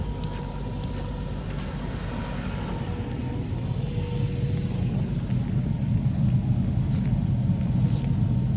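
A 2022 Jeep Compass idles after a remote start at 8,000 feet, a steady low engine rumble that holds evenly throughout with a few faint ticks above it.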